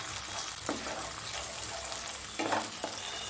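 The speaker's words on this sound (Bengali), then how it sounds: "গ্যাসের ফ্লেমটাকে আমি একদম লোয়ে রেখেছি, যাতে পেঁয়াজের রঙটা, পেঁয়াজটা না লাল হয়ে যায় বেশি" Onions frying gently in a pan on a low gas flame for a duck egg korma, a soft continuous sizzle with a couple of faint stirring scrapes, quiet and close.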